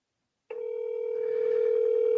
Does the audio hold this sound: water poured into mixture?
no